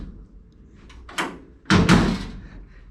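Driver door of a Factory Five 35 hot rod truck swinging shut, a soft latch click followed by a solid, close slam that rings out briefly.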